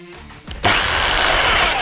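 A Tex.AC 305 rotary hammer set to hammer-drill mode starts up after a quiet moment, jumping into a loud, close, sustained whirring and rattling roar as it begins drilling holes.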